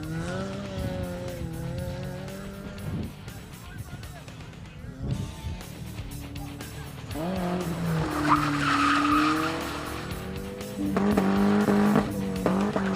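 Suzuki Ignis rally car at a Barbados rally, engine revving and tires squealing through skids, close and loud with shifting engine pitch, a commentator talking over it.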